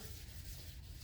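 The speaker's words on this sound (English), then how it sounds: "I'm wet sanding." Steady, continuous rasping of wet sanding on a car panel, a close and even scrubbing texture with no pauses.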